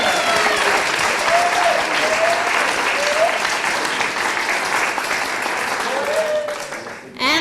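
Sustained applause from an awards ceremony audience, dense and steady throughout, with faint voices calling out above the clapping before it cuts off abruptly at the end.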